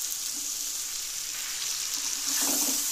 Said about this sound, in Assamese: মাংসখিনি এইখিনি হাই ফ্লেমতে ভাজি ল'লোঁ, আলুখিনি দি দিলোঁ।